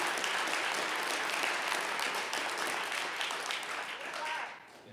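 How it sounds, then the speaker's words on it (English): Graduates at a Veterans Treatment Court graduation ceremony give themselves a dense, sustained round of applause from a crowd indoors, which holds steady and then tapers off near the end. "Give a round of applause to yourselves."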